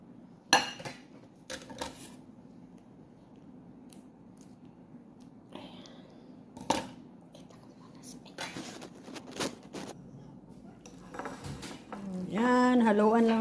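Utensils clink and scrape against dishes while cabbage is mixed into Indomie instant noodles, a series of sharp close clatters with quiet gaps between them, followed by a sizzling louder stretch near the end.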